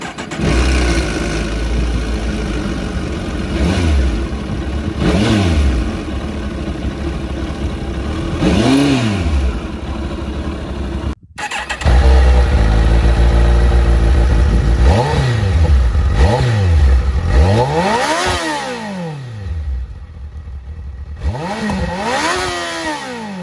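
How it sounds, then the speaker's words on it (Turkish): A Kawasaki ZZR 1400 motorcycle with dual exhaust revs loud and close, its engine swelling and dropping in repeated throttle blips between idling stretches, with no talking over it. "Hani çift egzozlu. Çok güzel dolu bir sesi var."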